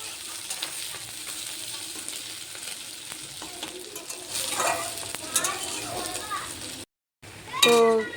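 Onions sizzle and frying in hot oil in a wok, a steady crackling hiss under nearby talk, with a voice and some pan clatter; sound briefly cuts out near the end before the sizzle returns louder.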